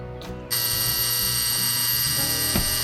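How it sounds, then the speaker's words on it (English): A Telechron 711 or GE AB712 electric alarm clock sounds its alarm, a loud, steady, harsh mechanical buzz that starts abruptly after a short click and drones on close up without pause. "All right, so there's the alarm,"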